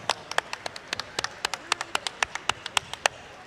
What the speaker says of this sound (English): Let's have a round of applause for all the teams competing here in Dalton